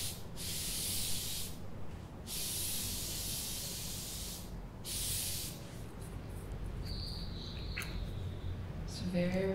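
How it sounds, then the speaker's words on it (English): Several bursts of facial water mist from a spray bottle hiss out in quick succession, each a soft airy whoosh, followed by quiet rustling and faint ambient chirps. "I'm going to spray it across your back and just cool you off a bit."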